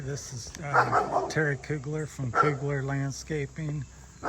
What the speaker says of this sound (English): Pardon the dog in the background.